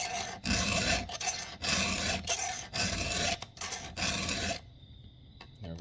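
A round file is pushed across the teeth of a Husqvarna 372xp chainsaw chain in about six rhythmic rasping strokes with brief pauses between them, close and clear, ending in quiet.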